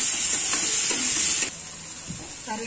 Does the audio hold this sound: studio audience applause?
no